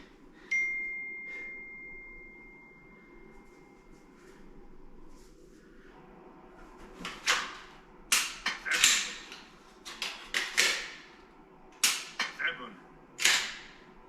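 Sharp mechanical clicks and clacks from a firearm magazine exchange during a training drill with an empty magazine, arriving in quick irregular bursts after a quiet start, close and fairly crisp.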